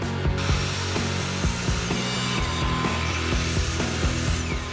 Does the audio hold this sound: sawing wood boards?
yes